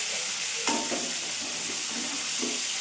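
Bitter gourd masala curry frying in a pan gives a steady bright hiss, close and even, with a few soft stirring scrapes and a light knock partway through; no one speaks.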